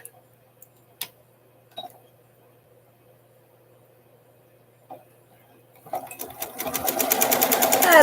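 A sewing machine sits quiet with a few scattered clicks, then starts stitching, its rapid even needle rhythm building louder and faster toward the end, close up.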